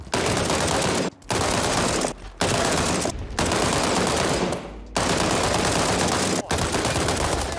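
Heavy gunfire from a powerful, slow-firing gun in the video game World War 3, loud sustained bursts of shots broken by a few short pauses, with no talking.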